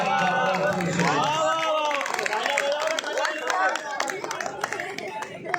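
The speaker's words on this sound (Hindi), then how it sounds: "जोरदार तालियों से शुक्रिया।" An audience at a mushaira poetry recital for an Independence Day celebration in Sendhwa claps, dense applause and crowd chatter mixing with a voice and some cheers, fading into scattered claps toward the end.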